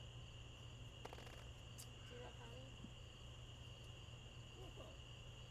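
Crickets chirp steadily outdoors in a rural farm setting, a faint continuous insect drone in the background with a few brief scattered sounds over it.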